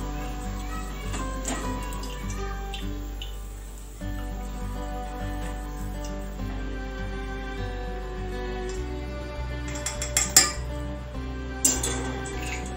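A palm-fruit malpua fritter being drained of frying oil and set into sugar syrup, heard as scattered metal utensil clinks and scrapes, a few sharper near the end, over a steady musical background.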